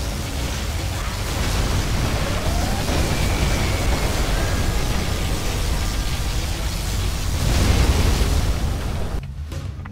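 A particle cannon fires in Command & Conquer Generals Zero Hour, a broad, sustained roaring blast with explosive rumble that holds steady for several seconds, swells near the end, then cuts off abruptly.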